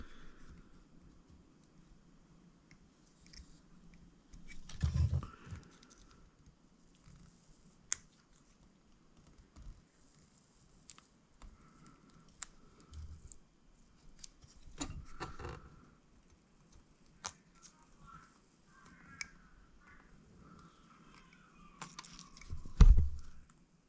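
Scissors snipping a 3D-printed RC car body to fit, a few quiet, scattered cuts and handling rustles spread across a mostly hushed workbench setting.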